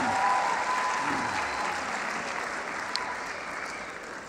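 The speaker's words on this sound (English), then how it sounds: "Give my daughter a round of applause." An audience at an OWN Talks motivational speaking event applauds steadily, a dense, sustained wash of clapping that stays loud and even throughout, with no voices over it.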